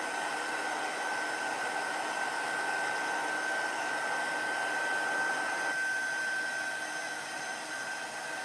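Hair dryer blowing steadily on craft buttons, a loud continuous whooshing hum with a faint whine, running alone throughout.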